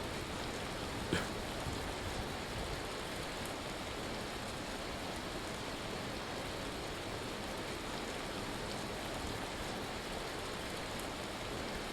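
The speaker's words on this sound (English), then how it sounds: "Oh, fuck, it's hailing." Hail pattering steadily in the survival game Vintage Story, a dense, even hiss of small impacts that holds at a moderate level throughout with no voices.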